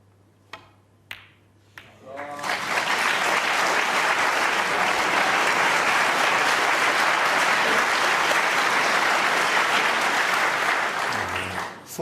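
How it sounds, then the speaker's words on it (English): A snooker audience at the 2015 World Championship semi-final bursts into prolonged, loud, sustained applause after a few isolated claps and taps, the dense clapping holding steady for nearly ten seconds before fading. "Prolonged round of applause for that shot"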